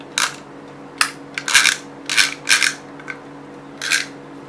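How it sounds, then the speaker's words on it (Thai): The spool clicker of an Olympic Dolphin 350-LW fishing reel gives close, crisp bursts of ratcheting clicks, about seven short runs of varying length with quiet gaps between them. "คลิกเสียงเนี่ยค่อนข้างเบานะตัวนี้นะครับ"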